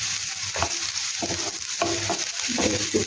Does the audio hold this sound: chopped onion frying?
yes